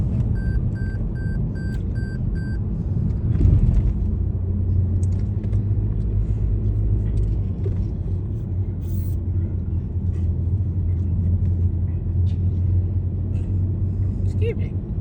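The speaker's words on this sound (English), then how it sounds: "Nice driving through here on an icy road." Steady, close rumble of a car interior while driving along an icy road through St. Matthews, Louisville, Kentucky, with continuous low road and engine noise and people talking over it.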